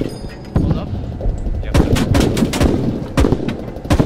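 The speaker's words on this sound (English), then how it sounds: "That was a fucking mortar" Mortar blasts and rapid gunfire from a tank video game battle, played as a ZBL-08 armored vehicle on the Goose Bay map: a loud string of sharp, booming reports and bursts, dense and close, with brief quiet before the first shots.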